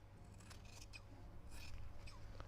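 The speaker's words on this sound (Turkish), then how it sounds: "Şöyle fazlalığını kesiyorum." Scissors snipping excess elastic on handmade leather pants, a few quiet, crisp cuts in a row close by, with no one speaking.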